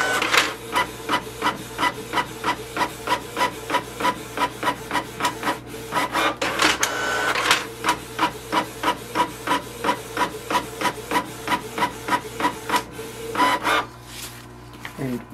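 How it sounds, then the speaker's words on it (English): A Canon Pixma TS3450 inkjet printer printing a network configuration page: a fast, regular series of rasping carriage passes with mechanical clicks, steady and close, pausing briefly midway. "wait for the printer to print a page"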